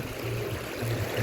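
A river in Rolpa rushes past nearby, making a steady broadband roar of flowing water throughout with no voices.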